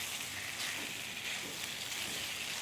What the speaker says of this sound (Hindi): हाई फ्लेम पर इसे चलाते हुए 3 से 4 मिनट फ्राई करेंगे